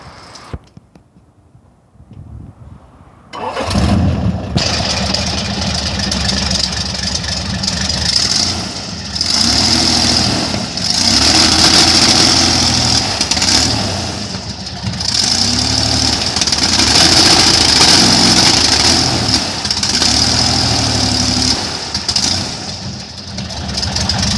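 After a few seconds of near silence an airboat engine catches and starts, then settles into a loud, steady idle with small surges. The rumble runs for about twenty seconds and no one speaks over it.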